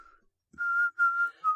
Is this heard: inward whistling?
yes